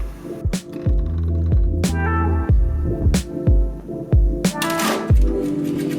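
A domestic sewing machine stitches a straight seam in a child's summer dress, running in steady whirring bursts with a humming motor tone, brief pauses and rhythmic clicks between runs, close and clear with no talk.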